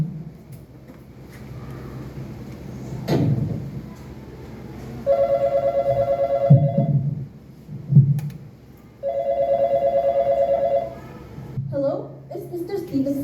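A landline telephone rings in two long electronic bursts, loud and close, with a few soft voices and thumps between the rings, during a school stage play.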